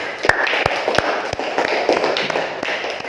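A classroom of students gives a round of applause for groups 1, 2 and 3: a steady, dense patter of clapping with a few sharper claps standing out, lasting the whole moment.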